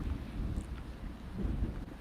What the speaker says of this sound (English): Oh, man. The wind is back. Yeah, we got about 10 to 15 mile an hour wind here.